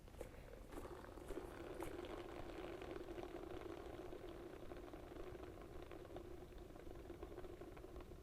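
Roller skate wheels spinning freely on their bearings after adjustment, a steady, even whirring hum that holds continuously at moderate level throughout, with no talk.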